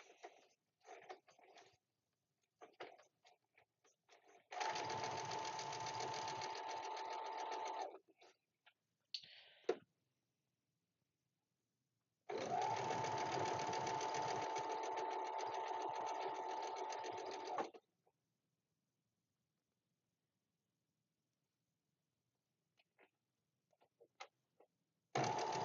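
A sewing machine stitches a quilt block onto a strip in two long steady runs of several seconds each, separated by short pauses, with fainter handling sounds between them.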